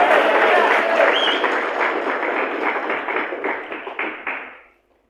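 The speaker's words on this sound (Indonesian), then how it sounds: "Yang setuju tepuk tangan bagi Tuhan." A church congregation claps together in a dense, steady burst of applause that holds loud for several seconds, then thins out and fades to silence.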